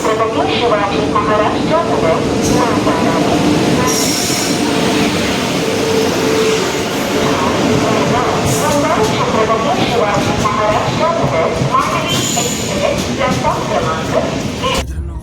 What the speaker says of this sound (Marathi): आली आहे मडगाव एक्सप्रेस